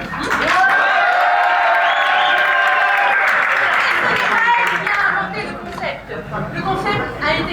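Audience applause and cheering fill a hall at a talk, loud and steady for about five seconds, then thin out into scattered clapping and murmurs.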